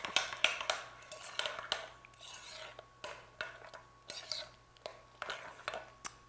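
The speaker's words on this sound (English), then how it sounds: "I'm going to mix that up." Worcestershire sauce and salt stirred together in a bowl with a utensil, producing soft, quiet, rhythmic scraping and clinking strokes that repeat steadily, close by.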